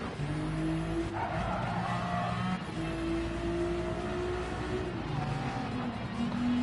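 A Ferrari race car in Gran Turismo 7 drives hard with a steady engine drone and rising and falling gear-shift tones, with tire squeal and the hum of other cars close by.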